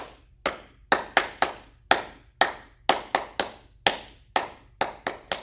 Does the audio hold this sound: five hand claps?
yes